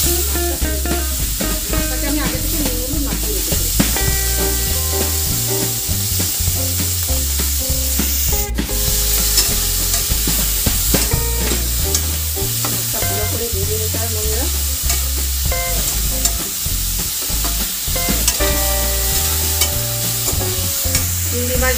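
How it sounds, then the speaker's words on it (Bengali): Prawns fry in a little hot oil in a heated wok, a steady, loud sizzle running throughout with stirring clatter, no talking. "তেলটা গরম হয়ে গেলে আমি মাছটা ভেজে দেব।"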